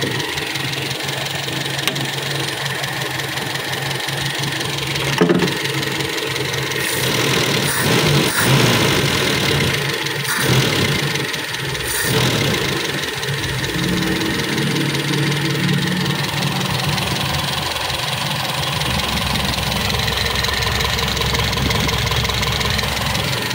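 Toyota Kijang engine idling in a workshop after a rebuild, a steady mid-to-low rumble with a light ticking knock, close and continuous, interrupted by a few brief clanks around the middle.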